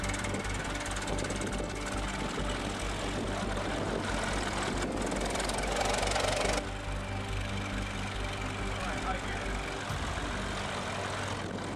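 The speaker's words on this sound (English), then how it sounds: "it was time to test drive the chassis" 1915 Ford Model T chassis fitted with a radiator, gas tank and temporary seat, its engine running on a test drive, a loud rough clattering drone that eases into a quieter, steadier run partway through.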